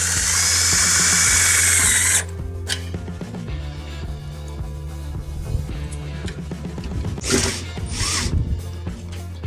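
Power drill with a longer bit drives screws into an aluminum stair rail, a loud whirring burst at the start followed by a clicking, ratcheting clutch and several short buzzy pulses.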